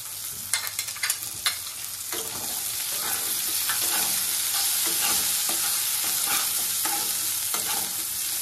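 Boiled peas stirred into samosa filling frying in a pan, a steady loud sizzle with scraping spoon strokes, a few sharp clicks at the start before the frying settles into a constant hiss.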